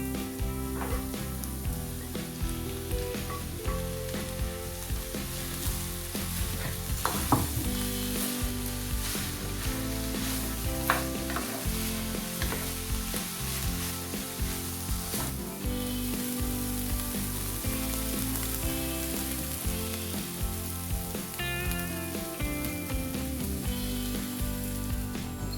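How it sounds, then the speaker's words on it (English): Minced beef fries in a pan with softened vegetables for a lasagne soup, a continuous close sizzle and crackle with occasional scraping stirs and light pan knocks throughout. "we'll add our mincemeat and we'll cook it until golden"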